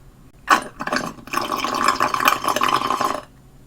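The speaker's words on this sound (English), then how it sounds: "I can make weird noises with my straw for the rest of this" Gurgling, bubbly slurping noises made through a drinking straw in an emptied coconut, starting in short bursts then running into a longer continuous rattle, close up.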